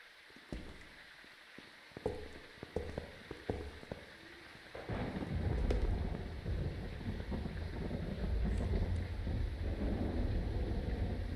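Thunder rumbles in a Phasmophobia game scene: a few sharp cracks and knocks early on, then a deep sustained roll of thunder swells and lingers under steady rain, moderately loud with no voices.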